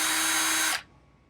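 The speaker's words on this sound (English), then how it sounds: "I'm going to grab my piece of brass, and we are literally going to drill it out." A power drill with a chamfer bit grinds into a brass cartridge case, a loud steady whine that cuts off sharply near the end, leaving faint room noise.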